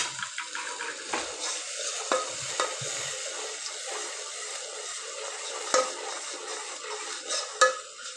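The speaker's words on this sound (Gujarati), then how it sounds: "હવે બરોબર આ રીતના મિક્સ કરી લઈએ આપણે" Tomato and onion chutney with garlic and curry leaves sizzles in a pan while a spoon stirs it, with steady frying hiss, soft scraping and occasional clinks of the utensil against the pan, no talking.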